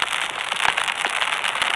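A campfire in the survival video game 99 Nights in the Forest crackles with dense, irregular pops and snaps over a steady hiss, close and fairly loud with no voices.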